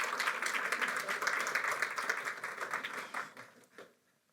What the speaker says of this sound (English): So warm round of applause, everyone, for Anton Eser